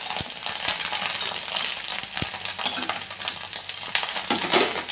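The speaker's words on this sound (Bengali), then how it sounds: "দুটো তিনটে বড়া একসঙ্গে দিয়ে দিয়েও কিন্তু আপনারা ভেজে নিতে পারেন" Fish roe fritters, two or three at a time, frying in hot oil with a steady crackling sizzle, dotted with sharp clinks and taps of a utensil against the pan, close by and with no talking.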